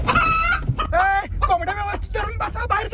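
Chickens inside a car cluck and squawk loudly and close up in a nearly continuous run of calls.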